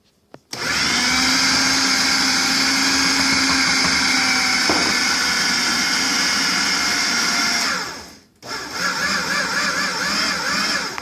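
Food processor pulsing thick, sticky chocolate chip nut cookie dough with an egg added, a loud steady whirring motor run for about seven seconds, a brief stop, then a second shorter pulse.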